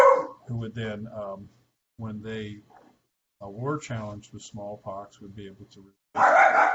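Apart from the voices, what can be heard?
dogs barking in the background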